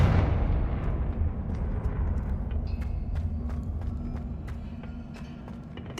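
A Confringo blasting spell explodes in the video game Hogwarts Legacy, a loud deep boom at the start that decays into a long rumbling tail with scattered small crackles and clicks, no voice over it.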